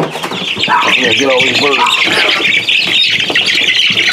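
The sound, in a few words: Rhode Island Red hens clucking and squawking while being caught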